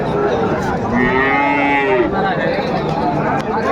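Cattle at a busy rural cattle market in Naogaon low in a long, close, drawn-out moo, with crowd chatter murmuring beneath.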